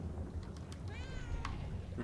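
A cat gives a single short meow, close and moderately loud, over a low steady room hum with faint clicks from a session playing Murdered: Soul Suspect.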